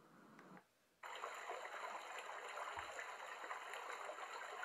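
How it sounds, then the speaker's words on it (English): Steady flowing brook or stream water from a Dreamegg white noise machine, a continuous broadband hiss with tonal hum that starts after a brief quiet gap and runs evenly at moderate level. "And that sounds like a brook or stream with flowing water."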